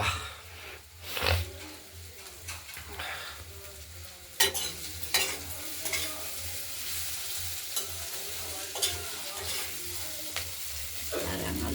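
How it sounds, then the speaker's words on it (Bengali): Flat beans sizzle steadily in a hot pan while a utensil scrapes and stirs through them in irregular strokes, close by. "শিমটা হয়নি, শিমটা ভাজা ভাজা হবে।"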